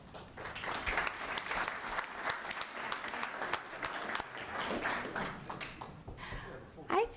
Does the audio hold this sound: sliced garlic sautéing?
no